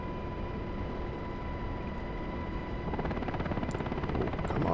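A UH-60L Black Hawk in DCS World, laden with full external fuel tanks, drones with a steady rotor thrum and turbine whine, close and even, the rotor beat thickening slightly toward the end; no one talks.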